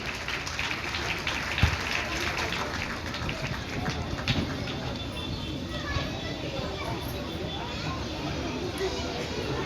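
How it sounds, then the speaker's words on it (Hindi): Audience applause at a school's mega annual event fills the space as a dense, steady patter with a few sharper claps, continuing under people talking. "भूलने नहीं दूंगी, तालियां बजाते रहे।"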